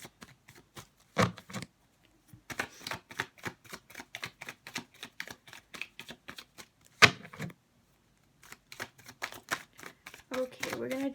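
Cards being shuffled for a tarot-style reading, a run of quick riffling and tapping bursts broken by short pauses, close and fairly quiet, with a person talking in between.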